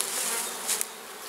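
Honeybees buzz in a dense, steady drone from inside a beehive box during a hive inspection, a close, continuous hum with a brief louder swell near the middle and no talk.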